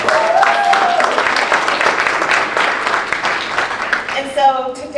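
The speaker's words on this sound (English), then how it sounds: "So let's give him a round of applause." An audience at a talk gives a round of applause that holds steady for a few seconds, with a voice starting to speak over the fading clapping at the end.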